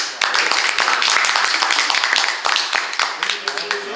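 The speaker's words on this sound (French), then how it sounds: "Bon, on applaudit bien fort." An audience at a birthday party claps loudly, a dense run of many hands sustained for several seconds with some voices mixed in.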